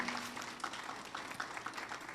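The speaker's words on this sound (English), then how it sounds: "Give them a big round of applause" A town hall meeting audience applauding, a faint steady patter of clapping heard from a distance.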